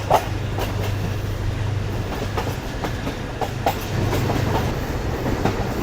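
Subak Raftar railcar running on the Narowal–Sialkot–Wazirabad branch line, steady rumble with rhythmic clickety-clack of wheels over rail joints heard from inside the carriage, continuous with no speech.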